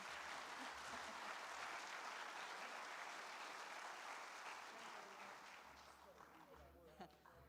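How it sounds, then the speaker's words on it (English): An audience at an Australia Day awards ceremony on the Sunshine Coast gives a sustained round of applause for winners posing on stage, steady and full before easing slightly, with voices murmuring underneath. "Why don't I give them one round of applause while they're getting their photos taken."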